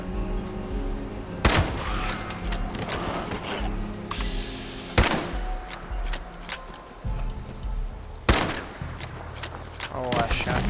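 Fallout 76 video game gunfire: several loud, sharp shots crack out over roughly ten seconds, mixed with scattered smaller impacts and game noise, while someone talks throughout.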